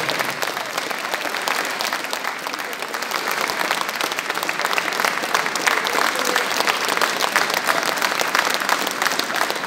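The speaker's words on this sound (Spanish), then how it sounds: "el aplauso para este gran artista" Audience applause for an artist at a live concert in a Paraguayan dance hall, steady dense clapping from a crowd filling the whole stretch and swelling slightly toward the end.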